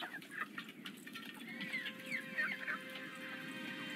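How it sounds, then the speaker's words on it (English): Chickens cluck in a video game, with short scattered clucks and chirps over a steady ambient bed of noise, moderately close but not loud. "Chickens!"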